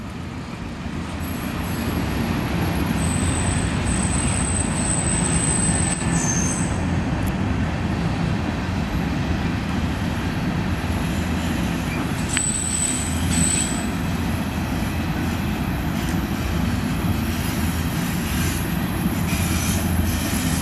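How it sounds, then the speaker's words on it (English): CN freight train passing Argenson Park in Montreal, one wheel with a flat spot, a loud steady rumble of rolling cars with high metallic wheel squeals and brief screeches rising above it, continuous and close. "a freight car making that sound, it means that one of the wheels is a flat spot"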